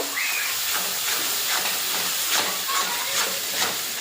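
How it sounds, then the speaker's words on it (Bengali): A biryani spice mix with turmeric powder and salt is fried and stirred in a pan, a loud, continuous hissing sizzle with soft swells as the mixture is moved around, heard up close with no talking. "হলুদ গুঁড়ো দিয়ে দিলাম নুন দিয়ে দিলাম এবার মশলাটাকে ভালো করে কষিয়ে নেব"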